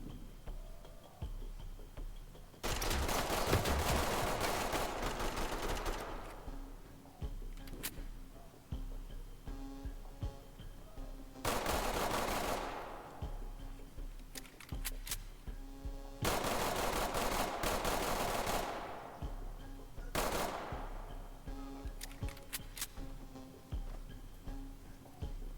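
Bursts of automatic gunfire in a tactical police shooter video game, several loud sustained volleys separated by short pauses over steady background game ambience.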